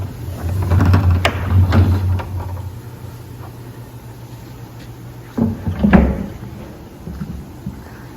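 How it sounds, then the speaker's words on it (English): A wooden lid is set onto a handmade blanket chest fitted with hinges, producing hollow knocks and thuds at the start, a quieter pause, then another cluster of wooden bumps and scrapes. "Now we lay the top on it."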